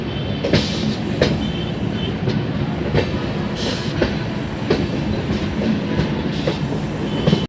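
The Amrit Bharat Express rolls slowly around a sharply curved track at about 20 km/h, wheels clacking rhythmically over rail joints with a steady rumble and occasional faint squeal, heard from inside the coach.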